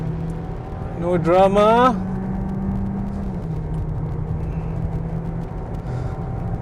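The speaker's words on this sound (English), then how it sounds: "Again from here to start a full acceleration." A 2022 Volkswagen Golf GTI R-Line accelerates hard on the Sepang International Circuit, its engine note rising through quick gear changes before settling into a steady in-cabin drone, with someone talking briefly over it.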